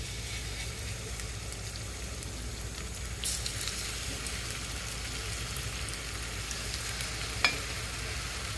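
Rava appe frying in ghee in a pan, a soft continuous sizzle, fairly faint and steady, with one brief sharp tap near the end and no talking.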